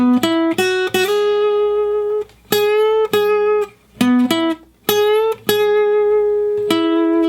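A guitar plays a short single-note phrase alone from the solo of a song: plucked notes, some quick and some left ringing, repeated across a few seconds.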